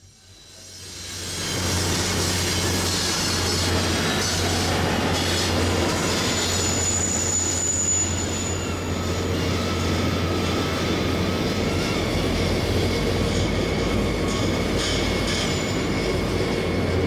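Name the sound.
CN freight train passing on track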